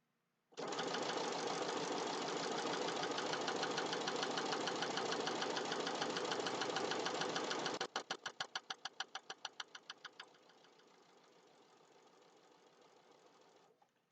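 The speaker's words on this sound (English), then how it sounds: "now I'm going to sew back in the other direction." A sewing machine stitches a fabric Halloween placemat in a fast, steady, even whir for several seconds, then slows to distinct individual stitches before running on quietly at low level, close and clear.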